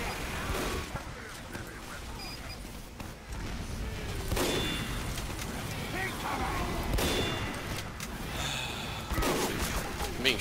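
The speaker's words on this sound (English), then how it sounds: "Being shot at." Gunfire in Team Fortress 2 arrives as a steady fusillade of shots and impacts under game noise, with a few sharper loud cracks standing out and a voice speaking faintly throughout.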